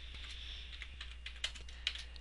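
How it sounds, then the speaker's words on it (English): Fast, quiet keystrokes on a computer keyboard while entering a name into a Word 2003 document, with a steady low hum underneath and a couple of sharper key hits near the end. "I'm going to type in my name"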